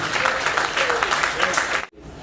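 Congregation clapping during a church service, a brief burst of dense applause that cuts off abruptly, followed by quieter room sound.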